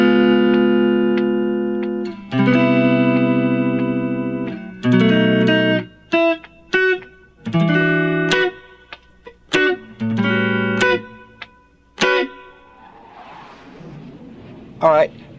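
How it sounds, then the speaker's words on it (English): Light guitar strumming with a thin pick on a song: bright chord strums ring at first, then give way to short choppy rhythmic hits and a fading scratchy tail, played close and alone. "I'm using a thin pick so that I get this really light strumming sound"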